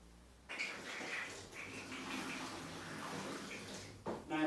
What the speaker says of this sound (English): you're getting some leakage come out of this connection here